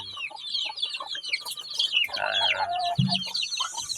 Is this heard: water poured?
no